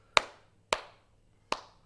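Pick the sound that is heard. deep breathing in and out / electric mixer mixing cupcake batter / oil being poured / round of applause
round of applause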